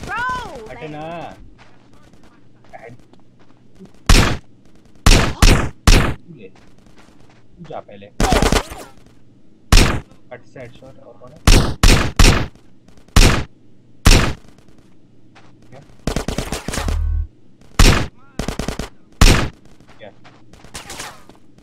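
Loud bursts of gunfire from the video game GTA San Andreas crack out in short clusters and rapid volleys, mixed with game character shouts and a player talking over the action.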